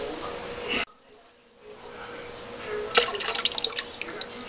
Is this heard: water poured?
yes